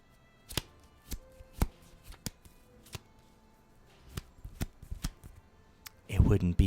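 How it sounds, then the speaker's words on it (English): Playing cards shuffled close to the microphone during a Magic: The Gathering game, heard as a series of sharp, separate riffles and snaps spread through the stretch, ending in a louder, denser burst of shuffling. "It wouldn't be a magic stream without a lot of card shuffling near the microphone, would it?"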